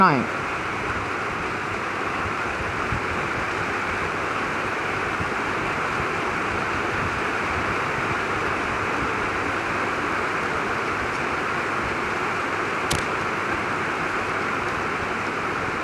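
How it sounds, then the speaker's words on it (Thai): Steady rain falls outside a house, a dense, even hiss that runs unbroken from start to finish at a constant level, with a single sharp click near the end. "บ้านผมเสียงฝนตกนะ"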